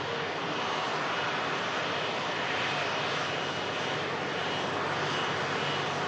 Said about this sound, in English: Beautiful wide-bodied aircraft making the rapid exit here at Manchester.